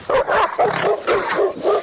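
A dog barks and yips in about six short bursts at a steady pace during a casual talk show, close and fairly loud, with no speech over it.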